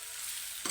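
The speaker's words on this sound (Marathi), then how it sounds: "चांगलं तेलामध्ये फ्राय करून घ्यायचं टोमॅटो" Tomatoes frying in hot oil for a quick potato and pea bhaji, producing a steady bright sizzle that swells into a louder burst near the end.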